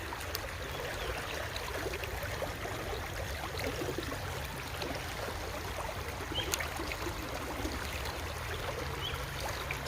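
Cold stream water running over mossy rocks and stones in a streambed, a steady close rushing and trickling wash that holds evenly throughout with no talk.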